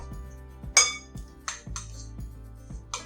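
A spoon clinks against a bowl while a ricotta cheese filling with garlic and fresh pesto is mixed. Five or six sharp, irregular taps ring out close by over quiet scraping.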